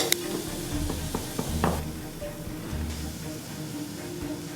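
Shallots sizzle in olive oil in a saucepan, and mushrooms may go in as well. A close, steady frying hiss carries a few stirring knocks early on, with no talk.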